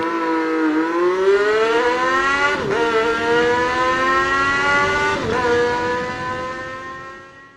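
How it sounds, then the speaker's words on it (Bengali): A Suzuki Gixxer FI motorcycle running on octane fuel: its engine hums close and loud in a steady, harmonic-rich tone, rising slightly in pitch and blipped twice, then fading toward the end. "জাস্ট আমার ইঞ্জিনের সাউন্ডটা শুনেন।"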